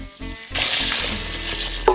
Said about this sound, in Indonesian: Tuangkan 2 liter air.